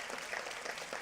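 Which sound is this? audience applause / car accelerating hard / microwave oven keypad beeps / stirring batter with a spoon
audience applause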